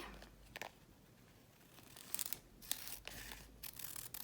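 Scissors snip through a paper collage piece in a few short, quiet cuts, with soft crinkling of paper between the snips.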